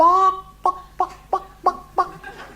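A voice imitates a chicken, opening with a drawn-out squawk and then five short, evenly spaced clucks, close and clear with no other sound.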